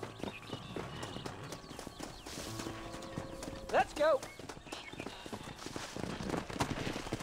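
Horse hooves clip-clop on the ground in the western video game Red Dead Redemption, a close, steady walking rhythm that continues the whole time beneath ambient music, with a brief spoken line partway through.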